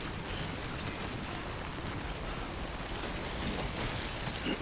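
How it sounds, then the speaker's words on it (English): Steady rain falls in Death Stranding, a dense, even hiss of drops with faint splashes close by, continuous and without talk. "I know you can't copyright rain sounds, like nobody owns the copyright to rain"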